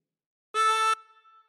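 A single harmonica draw note on hole three, bent down to A, held for under half a second as one clean reedy tone, close and alone, then a faint decaying tail.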